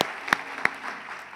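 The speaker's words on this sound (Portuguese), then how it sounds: "vamos aplaudir a Jesus nessa noite" A church congregation claps during an evening service, a brief burst of applause with a couple of sharp, close claps standing out above the crowd.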